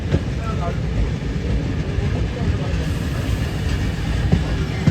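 Tirupati–Howrah Humsafar superfast train passing near Vijayawada: a steady, loud rumble of rolling wheels and carriages runs throughout, with faint clanks and speech underneath.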